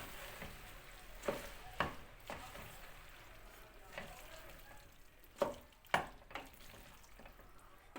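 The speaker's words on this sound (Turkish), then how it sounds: "Ben şimdi bunu güzelce harmanlayayım." Boiled pasta being tossed and mixed with pepper paste, with a few faint utensil clicks and scrapes against the pot amid quiet kitchen ambience.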